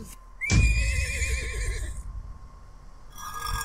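A horse gives one loud, wavering whinny that rises sharply after a brief thump, holds for over a second, then fades, followed by a quieter tonal tail.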